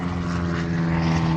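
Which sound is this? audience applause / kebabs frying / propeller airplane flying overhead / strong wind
propeller airplane flying overhead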